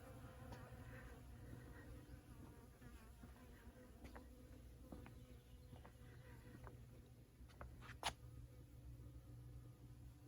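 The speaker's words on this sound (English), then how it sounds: "The bees like that too." Soft buzzing of bees around muscari flowers in a garden bed hums steadily outdoors, a low drone with occasional faint clicks and a brief rustle, fairly quiet and without voices.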